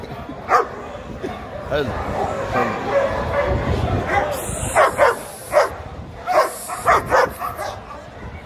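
Dogs at a Friday market in Alexandria, Egypt bark and yip repeatedly in short sharp bursts, some whimpering between, over busy market noise while someone talks nearby.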